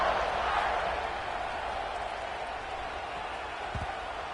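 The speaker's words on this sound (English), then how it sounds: "this crowd is buzzing after that last score" A college football stadium crowd buzzes after a score, a broad, steady roar of distant cheering and murmur washing evenly through the stands, moderately loud, with a couple of faint thumps near the end.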